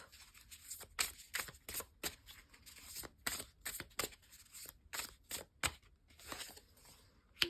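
A tarot deck is shuffled by hand in a series of crisp, riffling bursts and flicks, close and clear, repeating in irregular rhythm for several seconds with no voice over them.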